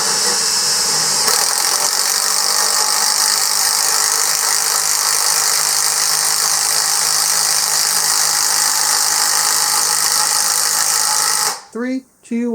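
A Hyper Tough 20V brushless impact driver drives a lag bolt into wood with a loud, continuous hammering whine lasting about eleven seconds, then stops abruptly, and a voice follows.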